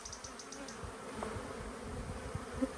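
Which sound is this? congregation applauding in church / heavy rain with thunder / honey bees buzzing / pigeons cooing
honey bees buzzing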